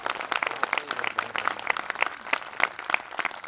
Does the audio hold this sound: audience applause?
yes